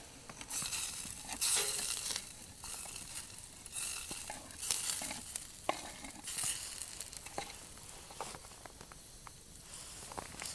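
Potatoes tipped into a pot of boiling water over a campfire, scattered splashes, clunks and rustling over a low bubbling hiss, in uneven bursts with no talk.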